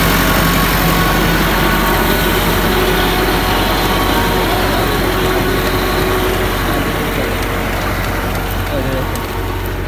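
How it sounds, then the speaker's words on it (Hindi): A tractor digging potatoes in a village field runs with a loud, steady engine drone close by, with constant low rumble and no break for the whole stretch. "ये आलू निकाल रहा है ट्रैक्टर"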